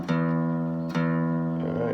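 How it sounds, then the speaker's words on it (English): A steady electronic tuner reference tone for the low E string, with a sustained, even pitch held for about two seconds and one brief re-attack partway through. "if you've got a tuner plugged in, this is what you want to tune to"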